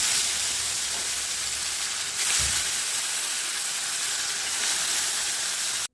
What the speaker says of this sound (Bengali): প্রথমে আমি শোল মাছগুলো ভেজে নিচ্ছি